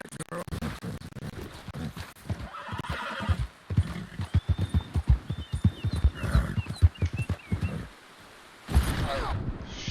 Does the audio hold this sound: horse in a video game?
yes